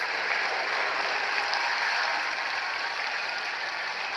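Cricket crowd in a stadium cheering and applauding after a wicket falls, a dense, steady roar of clapping and shouting that holds throughout without a break.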